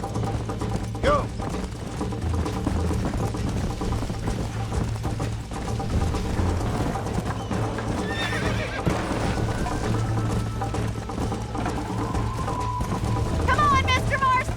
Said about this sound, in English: I think you chose the wrong horse, Miss McFarland.